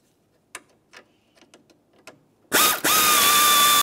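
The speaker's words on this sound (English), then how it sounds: "Let's remove all 8 of those screws." Power screwdriver backing out Phillips head screws that hold the grille trim molding on a 2006-2011 Honda Civic: a few brief clicks, then two loud, sustained close whirring bursts of the driver.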